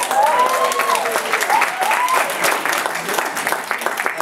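Audience applause fills a room at a New York City real estate investors' seminar, a steady, dense patter of many hands clapping throughout, with a few voices and whistles mixed in.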